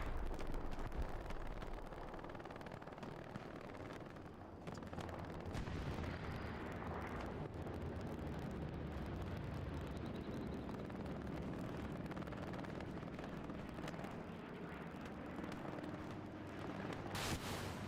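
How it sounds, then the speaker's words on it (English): Rocket explosions hammer a contested capture point in the World War II shooter Hell Let Loose, forming a dense, continuous roar of blasts and rumbling battlefield noise with brief dips and no clear breaks. "There goes another rocket into the point."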